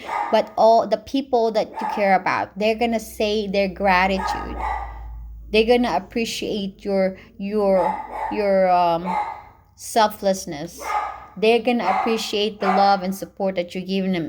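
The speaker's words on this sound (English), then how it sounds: "Sorry for my dog." A dog barks on and off in the background beneath continuous near speech from someone talking throughout, the yaps faint and partly masked by the voice.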